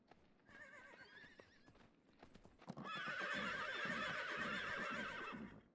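A horse in the Myth of Empires survival game whinnies loudly for a few seconds at close range, following quieter hoof clip-clops and ambient game sounds.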